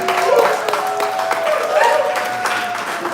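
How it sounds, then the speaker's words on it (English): An audience at a live hip-hop talk event gives a round of applause, continuous clapping and crowd noise running throughout, with voices heard over it. "Let's give a round of applause."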